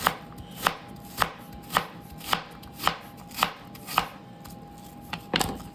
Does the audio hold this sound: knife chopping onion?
yes